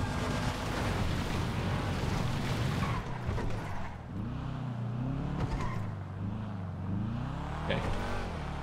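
A car driving in the video game GTA Online, its engine note climbing and falling through gear changes over steady road noise, loud and continuous with no talking.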